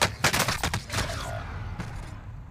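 Rapid gunfire in Call of Duty: Warzone, a quick cluster of loud cracking shots in the first second followed by a lone later shot and fading rumble.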